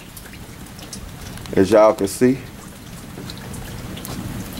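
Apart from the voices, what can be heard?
rain falling outdoors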